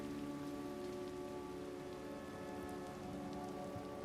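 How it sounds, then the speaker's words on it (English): Rain runs down the sides of high-rise buildings in a busy city, making a constant dense hiss and patter on hard surfaces, with a faint steady hum underneath and nobody speaking. "You can also see the rain streaming down the sides of the building."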